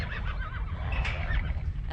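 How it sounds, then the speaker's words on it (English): Wild horses penned in a trap corral give a wavering neigh above a rumbling, muffled background of movement and noise, moderately distant. "Once they're caught, the horses are penned."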